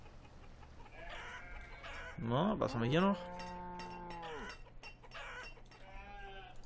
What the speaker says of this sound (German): die Chicken haben sich schon bis zur Grenze hier vermehrt